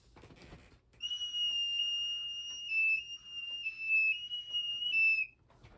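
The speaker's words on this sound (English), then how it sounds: "It's just a whistle." A thin, high-pitched whistle blown steadily for about four seconds, wavering slightly in pitch, close by and fairly quiet.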